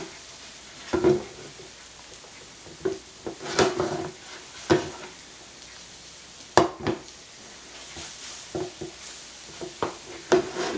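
Chicken egg foo young patties sizzle softly in a pan after being flipped, with a low steady hiss broken by repeated sharp spatula scrapes and clacks against the pan, close by and without talk.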